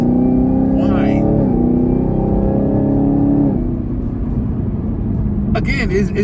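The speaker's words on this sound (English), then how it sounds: "Hear that engine whine." A 2019 Chevrolet Camaro ZL1 with 650 horsepower, its engine droning with a steady low whine and rumble, pitch shifting slightly midway, with faint higher noise bursts near the end.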